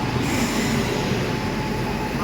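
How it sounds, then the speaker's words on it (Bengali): The Darjeeling Mail, the 12344 Haldibari–Sealdah express, pulling into a station platform with a close, steady rumble of wheels on rails and a thin squeal of braking wheels throughout. "ট্রেন ঢুকে গেছে।"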